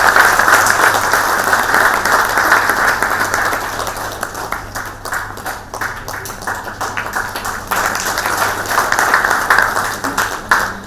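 An audience at a memorial lecture applauds with sustained clapping that rises and falls in intensity over about eleven seconds, heard alone without speech.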